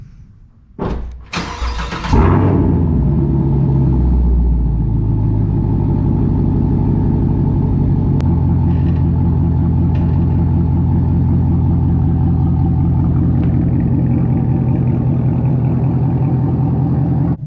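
A Chevrolet Camaro's door thuds, then its engine starts and settles into a steady, loud idle rumble that continues throughout; the car has an AFM valve squeak fault.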